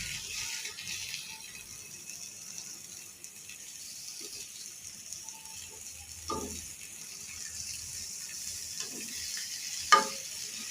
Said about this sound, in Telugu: రెండు నిమిషాలు వేపుకోవాలి.